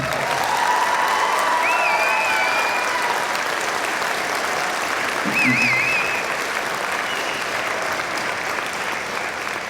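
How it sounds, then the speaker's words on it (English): Sustained, full applause from a concert audience for junior high all-region band students, a steady wash of clapping with faint crowd murmur and a couple of whistles, loud throughout. "So give them another round of applause, please."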